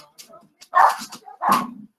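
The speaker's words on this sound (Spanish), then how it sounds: "¡Perro!" A dog barks twice in quick succession, two sharp, moderately loud yelps about a second apart, during a talk on student benefits, with a voice speaking around them.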